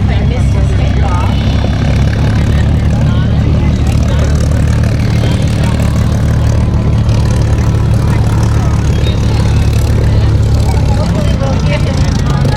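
A propeller plane drones continuously during an airshow climb, a loud steady engine roar with a deep low hum. People talk nearby throughout.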